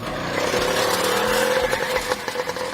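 An early Harley-Davidson motorized bicycle engine runs steadily at close range, a buzzing mid-pitched drone with a rough irregular pulse that loosens and sputters toward the end.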